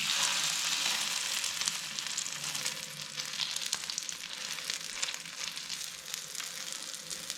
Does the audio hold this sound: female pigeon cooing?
no